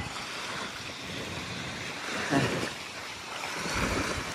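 Sea waves at low tide on Manila Bay by Dolomite Beach: a continuous wash of surf with wind rumble, swelling slightly in the middle and again near the end.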